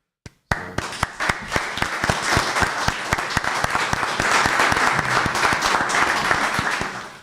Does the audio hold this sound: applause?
yes